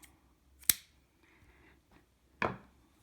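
Scissors snip crochet yarn in two sharp, close cuts about two seconds apart, with near silence between them.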